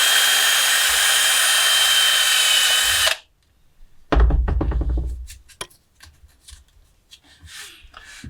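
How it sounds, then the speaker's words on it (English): A power drill whirs steadily for about three seconds while drilling a hole in a plastic controller case, then stops; after a pause a shorter grinding burst follows, trailing into clicks and handling noises. "I'm just going to drill the case."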